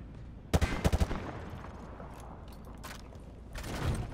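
Gunfire through light cover in Call of Duty Modern Warfare 2, a quick close burst of about five heavy shots, then quieter scattered clicks and a later softer rumble of fire, with no talk.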